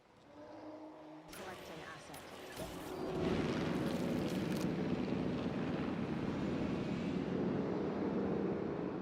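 In Jurassic World Evolution 3, a dinosaur airlift helicopter swells from a low rumble into a steady, loud rotor and engine drone that continues to the end, with a voice talking over it.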